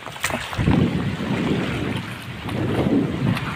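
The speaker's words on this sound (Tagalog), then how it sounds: "Hirap pag magpas ng hangin." Strong sea wind rushes and rumbles across the microphone in gusts, with a faint background wash of open water, during shrimp catching.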